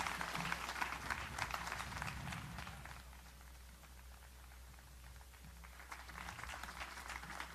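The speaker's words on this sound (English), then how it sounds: "So let's give him another round of applause." Audience at a campus groundbreaking ceremony applauding after a speech, a crisp patter of clapping that fades in the middle and then picks up again.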